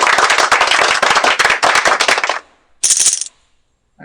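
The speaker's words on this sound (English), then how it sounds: "I could get used to that applause." Short burst of applause from a game-session audience, a dense stretch of loud clapping for about two and a half seconds that cuts off, followed by a brief bright hiss and then silence.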